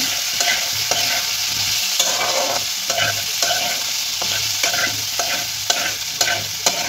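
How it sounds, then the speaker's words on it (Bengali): Potato and kohlrabi with ginger paste are stir-fried in a pan, steady close sizzling broken by a regular rhythm of spatula scrapes and knocks, with no talking. "এবার আদা বাটাটা এই আলু আর ওলকপির সঙ্গে ভালোভাবে মিশিয়ে নেব।"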